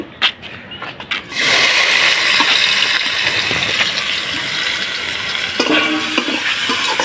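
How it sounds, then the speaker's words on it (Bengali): Chopped onions hit hot oil left over from frying fish and potatoes, starting with a few knocks before a loud, steady sizzle erupts and holds close up for several seconds, with faint stirring scrapes near the end. "এখন ওই মাছ ভাজার তেলেই সামান্য পরিমাণ একটু তেল দিয়ে দিলাম। এখন দিয়ে দেবো পেঁয়াজ কুচি।"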